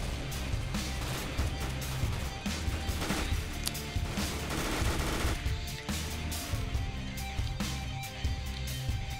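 Gunfire in Counter-Strike: Global Offensive, dense rapid automatic shots and bursts layered over continuous game audio, steady and moderately loud throughout.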